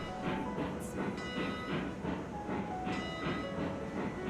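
Coal-fired steam locomotive in the Railroads Online game, hauling a train with steady rhythmic chuffing and rolling wheel clatter, loud and continuous, with faint whistle-like tones above.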